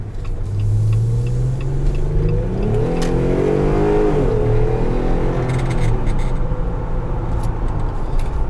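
A 2020 Jeep Wrangler Sahara with a 3.6 Pentastar V6 and 8-speed ZF automatic drives with the top open, its engine droning steadily and rising in a clear rev before settling back to a continuous rumble, with no talking.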